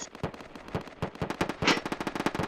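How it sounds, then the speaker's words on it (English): Rapid bursts of automatic gunfire ring out in a video game, a string of sharp cracks with uneven spacing, fairly distant and moderately loud, with no talking over them. "I believe there was gunfire at the lighthouse."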